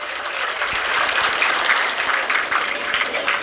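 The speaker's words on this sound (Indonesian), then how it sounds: "boleh tepuk tangan untuk beliau" An audience of workers and ride-hailing drivers applauds at a political speech, a loud, dense, continuous roar of many hands clapping together without a pause, with no talk over it.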